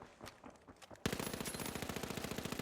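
Rapid automatic gunfire in a video game bursts in loudly after a second of quieter game noise, a fast even rattle of shots continuing to the end.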